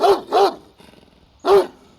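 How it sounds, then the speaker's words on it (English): A dog barks with growly edges in an audio roleplay, two quick close, loud barks followed by a low growl and then a third bark. "dieser verdammte Hund macht mich nervös"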